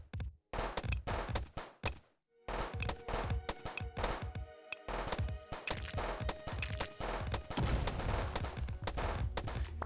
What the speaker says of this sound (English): And we'll go for the machine gun.